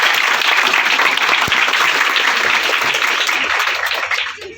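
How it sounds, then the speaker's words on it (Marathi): Loud, dense applause from an audience at a felicitation ceremony in a village primary school hall, sustained steadily for several seconds before thinning out and fading at the end. "तुका सरसाठी सर्वांनी जोरदार टाळ्या वाजवलेल्या आहेत"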